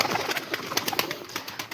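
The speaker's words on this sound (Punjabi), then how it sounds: "ਹੁਣ ਆਪਾਂ ਆ ਗਏ ਕਬੂਤਰਾਂ ਦੇ ਕੋਲੇ" Pigeons coo in soft repeated pulses close by, a quiet rhythmic murmur of several birds with no talking over it.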